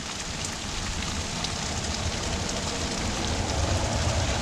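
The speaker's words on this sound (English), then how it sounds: "And I've been needing this rain sorely" Steady rain falls in warm weather with a light breeze, a dense, even hiss of drops patters across surfaces with no breaks and no voices.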